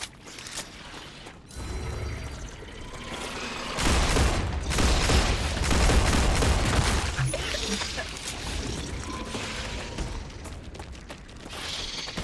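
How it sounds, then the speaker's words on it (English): Gunfire and a magazine change in the video game Star Rupture, with loud rapid mechanical clatter and shots in dense bursts, a sharp reload click at the start and a steady rattle of game action throughout. "Changing mags."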